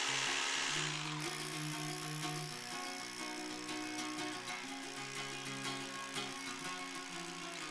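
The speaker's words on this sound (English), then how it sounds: "if it can let me drill through the bare rock like this" A power drill bores into bare rock at a log house build site, a steady loud whine and grind running throughout with no talk.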